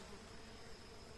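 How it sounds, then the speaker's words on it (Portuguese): Uruçu-amarela stingless bees (Melipona rufiventris) buzzing during a colony split, a faint, steady, close insect drone with no breaks and no talking. "Deixa eu já retirar as abelhas."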